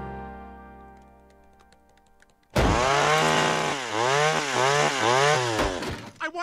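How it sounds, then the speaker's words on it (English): A chainsaw starts abruptly after a quiet tonal lead-in, then roars loudly and steadily up close, its pitch rising and falling in repeated revving surges before cutting out. "I want a chainsaw!"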